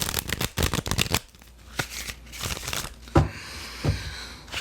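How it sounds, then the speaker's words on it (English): Tarot cards riffle and flutter in quick bursts, followed by softer slides and a couple of sharp taps as the deck settles, close and clear with no talking. "And one last shuffle for you"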